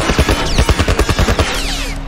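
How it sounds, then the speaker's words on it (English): Enemy gunfire in The Last of Us, a rapid burst of about a dozen loud, close shots in a steady rhythm, trailing off into ringing echoes. "How are they shooting this way?"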